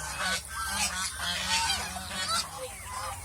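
A flock of geese honking repeatedly and noisily, close by, their overlapping calls continuing without pause.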